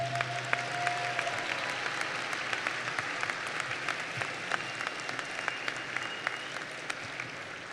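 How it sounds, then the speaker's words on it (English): Quiet, distant applause fills a hall at a university spring commencement as the faculty are honored, many hands clapping evenly and continuously, with faint traces of voices early on. "Please join me in honoring our faculty with a round of applause"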